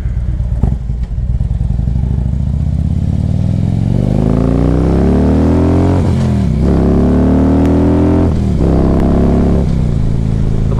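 A 2011 Harley-Davidson Ultra Limited with a 103 engine is ridden hard, its loud, close exhaust climbing steadily in pitch as it accelerates. There are gear changes around the middle and later on, with no talking.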